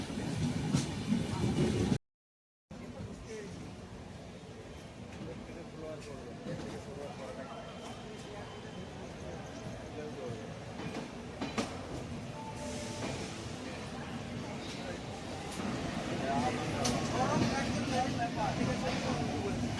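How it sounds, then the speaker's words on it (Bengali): A passenger train running into Kharagpur, heard from on board as a steady rumbling roar with faint rattles that grows a little louder toward the end, after a brief break near the start. "এখন খড়গপুর ঢুকছে, আধ ঘন্টা লেটে চলছে ট্রেন।"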